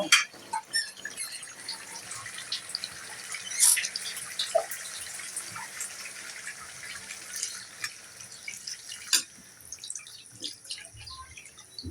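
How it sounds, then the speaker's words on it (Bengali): Water is poured into a pot of braising beef on a stove, making close splashing and trickling with scattered drips and clinks, irregular and moderately loud. "মাংসতে এখন পানি দিয়ে দেবো সিদ্ধ হওয়ার জন্য"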